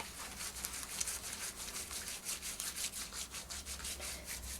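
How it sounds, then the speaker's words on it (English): Close, continuous scrubbing of feet with a lathering salt scrub during an at-home spa pedicure, a gritty wet rubbing with quick repeated strokes and a low background hum throughout. "it actually lathers up with the salt and gives a really nice scrub"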